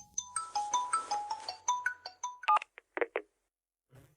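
A phone sounds off for a call from the hospital: a quick run of bright electronic beeps and tones, then a few harder chirps and a short pause before a faint low sound.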